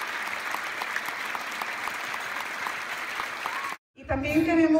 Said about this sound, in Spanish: Un aplauso otra vez muy fuerte a todo nuestro grupo